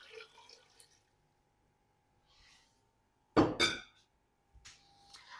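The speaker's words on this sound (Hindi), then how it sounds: "पानी डाल चुका हूँ" Water from a 1.5 litre measure splashes into a pot of beef for yakhni, one short loud pour burst in a quiet kitchen with faint clinks of dishes around it.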